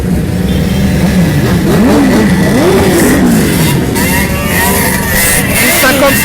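Motorcycles and scooters, some 50 cc, rev loudly at an enduro race in Le Touquet, with engines rising and falling in pitch over a continuous crowd roar while voices talk nearby.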